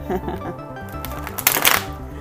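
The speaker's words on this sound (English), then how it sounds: "I'm just shuffling the cards already" Tarot deck being shuffled by hand, a rapid papery riffle that builds into a dense rustling burst near the end, close and fairly loud.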